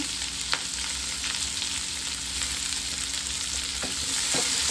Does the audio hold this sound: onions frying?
yes